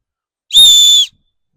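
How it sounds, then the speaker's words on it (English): A field hockey referee's whistle gives one clean, loud, steady blast of about half a second, clear and bright with nothing else around it. "how to get a good tone from your whistle"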